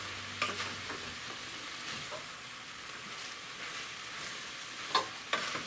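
Onions fry in a pan for a homemade lasagna, giving a steady soft sizzle with occasional scraping stirs and a few light clinks, close and quiet, with no voices.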